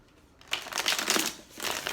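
A deck of tarot cards is shuffled during a pick-a-deck love reading, with close, quiet riffling bursts that start after a short pause and repeat in uneven waves, with no talk.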